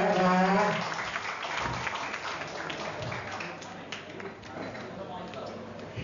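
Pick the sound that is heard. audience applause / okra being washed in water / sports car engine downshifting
audience applause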